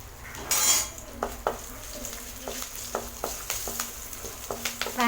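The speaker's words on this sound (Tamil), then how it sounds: "இது எல்லாமே நல்லா பொரிஞ்சிருச்சு எண்ணெயில்" A sambar tempering of mustard seeds, urad dal, cumin, dried red chillies, curry leaves and asafoetida fries in sesame oil, a steady sizzle broken by repeated sharp clinks of a spoon stirring against the pan, with no speech.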